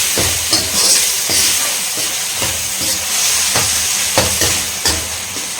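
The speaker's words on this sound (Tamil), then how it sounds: "தக்காளி வந்து பார்த்திங்கன்னா நல்லா வதங்கணுங்க வதங்கினா அதுக்கப்புறம் தான் நம்ம வந்து சேர்க்கணும் கொஞ்சம் நேரம் வதங்கட்டும்" Tomatoes with ginger garlic paste sautéing over high flame for a village-style goat intestine gravy, a loud continuous sizzle broken by regular stirring scrapes about every half second. No voices.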